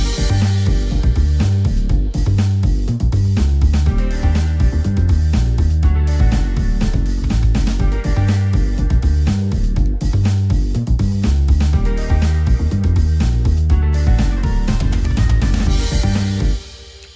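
A synth lead melody plays over a full, steady electronic backing with bass and drums, continuous and loud, ending abruptly.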